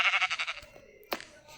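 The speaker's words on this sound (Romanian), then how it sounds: "Are o oaie, o prietenă." A sheep bleats in a wavering, pulsing cry, then gives a second short bleat after a brief pause, close and clear with no talk.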